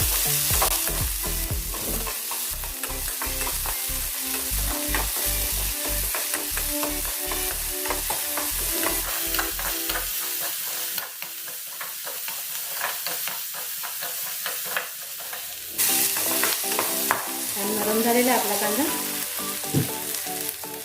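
Onions fry with a pinch of salt in a pan, giving a loud, continuous sizzle with rhythmic stirring scrapes early on, then a more even hissing fry with occasional clatter.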